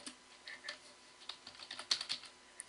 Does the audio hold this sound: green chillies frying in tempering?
no